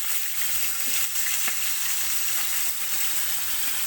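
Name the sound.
fish frying in a pan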